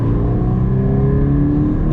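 Steady engine drone of a Subaru BRZ driving along a mountain road near Melbourne, loud and close with a continuous low hum and no talking.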